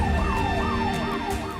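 A vehicle siren wails in a fast rising and falling yelp, loud and close, on a drive into a hunting camp in the Texas hill country, with engine rumble beneath and no talk.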